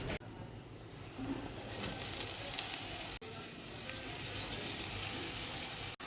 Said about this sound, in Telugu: ఇప్పుడు తోటకూర వేసేసుకుందాం